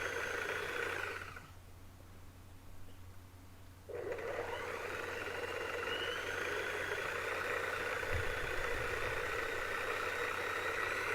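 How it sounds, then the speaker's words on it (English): A century-old Mosley lathe runs steadily, a continuous mechanical whir and hum with a high whine, interrupted once by a short dip in speed before it returns to full, even running; no one speaks. "This is an old Mosley lathe."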